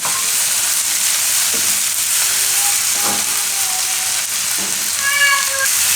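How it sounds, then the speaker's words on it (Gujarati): Tomatoes fry in a pan for tandoori Maggi, giving a bright, steady sizzle and hiss that runs throughout, with a few light stirring clicks and a voice speaking now and then. "તો આમાં ટમેટા નાખી દઈએ. ટમેટાને થોડીક વાર પાકવા દઈએ."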